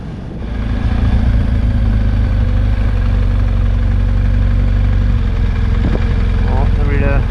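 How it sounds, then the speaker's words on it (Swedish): A BMW motorcycle engine runs close by, with a steady, rumbling, even drone that continues without a break. "Jag bröt batteriet igen och lyckades få igång hojen i alla fall."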